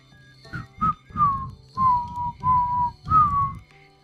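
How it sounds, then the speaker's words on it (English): A person whistles a short tune of about seven separate notes, some sliding, spaced by brief gaps over a low steady hum in a quiet room. "Start whistling."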